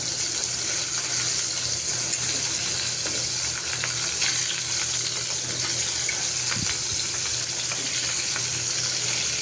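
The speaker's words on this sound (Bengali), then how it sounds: "এখন একটু মাছটাও ভেজে নিচ্ছি" Pieces of rohu fish frying in oil in a pan, giving a steady, continuous sizzle that stays even and close throughout with no talking.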